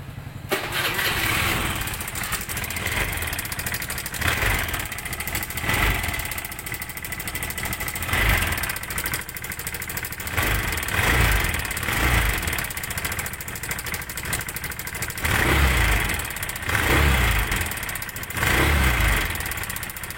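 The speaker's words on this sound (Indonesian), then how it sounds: "Hari ini atau siang ini kita kedatangan Vario 110 atau Vario Karbu atau Vario lama. Bisa kita dengarkan dulu suaranya." An old carbureted Honda Vario 110 scooter engine idles close by with a steady, chugging mechanical putter that swells and dips in regular pulses.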